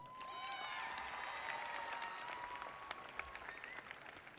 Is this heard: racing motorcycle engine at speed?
no